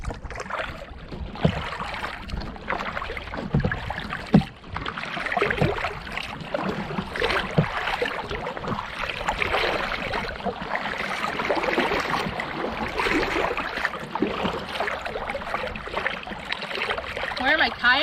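A kayak out on open water, with soft repeated paddle strokes and gentle splashing and trickling that carry on steadily beneath someone talking throughout.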